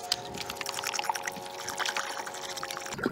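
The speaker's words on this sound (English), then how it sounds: "So far we have 3 gallons of water in there. I'm going to add about a half a gallon more because I want to cover." Water pouring into a canner pot, a continuous splashing, gurgling stream heard up close for a few seconds, ending with a brief clank.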